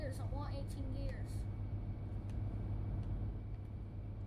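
A Peterbilt 387 truck in Euro Truck Simulator 2 cruises fast at almost 80 mph, its engine a steady, loud low drone throughout, with a brief voice heard near the start.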